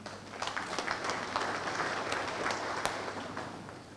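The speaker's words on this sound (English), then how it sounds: "Please clap for him." Mourners at a memorial for a brigadier general clap together in a steady, moderately faint wash of applause, with a few sharper individual claps standing out over about four seconds.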